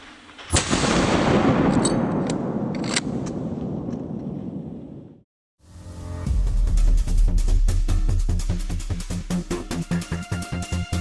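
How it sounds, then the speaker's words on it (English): A single powerful gunshot fired at a wild boar cracks loud and close with a decaying outdoor echo, followed after a brief silence by a run of rapid, repeated sharp impacts. "I pulled the trigger without hesitation. One powerful shot dropped the boar instantly."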